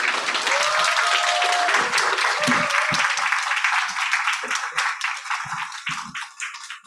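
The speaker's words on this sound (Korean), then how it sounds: "다시 한번 큰 박수 부탁드리겠습니다" Audience applause at the close of a lecture, a dense burst of many hands clapping that thins into scattered claps toward the end, with a brief voice in the middle.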